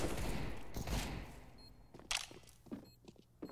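Rifle spray in Counter-Strike: Global Offensive on the Mirage map during a pro match, a dense burst of gunfire in the first second and a half followed by scattered sharper single shots, with no talk.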